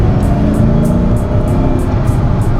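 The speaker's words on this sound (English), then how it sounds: "let's just open up the throttle a little bit." A 2006 Ford GT supercar engine drones loud and close under open throttle, a steady dense roar with no pause and no talking.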